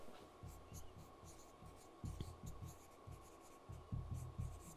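A pen writes an answer on a board or paper in a quiet classroom during an English story lesson, with short bursts of scratchy strokes in uneven rhythm, close and moderately soft over a low hum.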